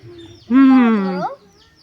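Pigeon chicks give a single close, loud squeaky begging call lasting under a second, with a rising and falling whistle-like tone and quiet moments before and after.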